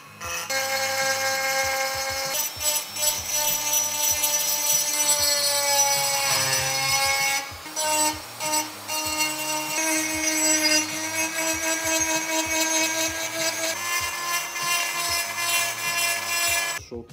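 A high-pitched rotary burr grinds and shapes the transfer ports of a 65cc DR cylinder for a Piaggio Ciao moped, a whining tool tone that shifts in pitch with short pauses as contact is made and lifted.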